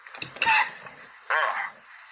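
Two separate bursts of throat clearing or coughing, close and fairly loud, with a brief pause between them.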